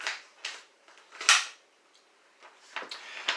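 A Taurus G2C 9mm pistol is put back into a storage spot with a few close, sharp metallic clacks and softer handling scrapes, one louder knock standing out among the shuffling.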